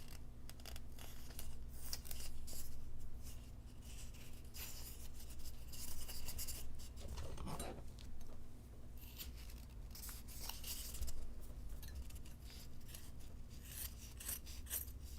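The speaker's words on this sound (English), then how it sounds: "These scissors have seen better days. They are losing their sharpness" Dull, worn scissors chew steadily through fabric with a continuous rasping, dragging crunch, close and fairly loud over a low background hum.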